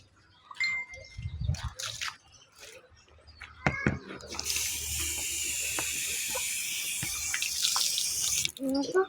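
Water running from a tap begins partway through as a steady hiss and splash, preceded by scattered clatter and handling noises, with faint voices nearby.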